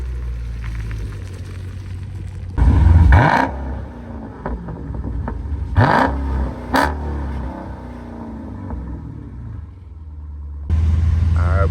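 A narrow-body Dodge Charger Scat Pack engine rumbles close at idle, then revs hard in several loud bursts and roars as the car accelerates, before dropping back to a deep idle.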